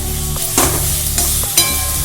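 Food being sautéed in a pan for a home-cooked meal, a continuous close sizzle broken by a few sharp scraping stirs of the spatula against the pan.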